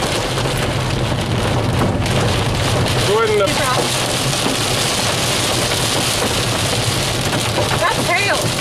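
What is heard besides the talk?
hail hitting a car while driving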